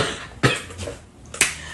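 Two short, sharp coughs about a second apart, close by, with quiet room noise between them.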